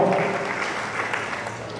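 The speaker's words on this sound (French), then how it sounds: "Applaudissez-la." An audience claps together during a French-language training session on making bio charcoal; the dense, steady applause carries through the whole short stretch with no talk over it.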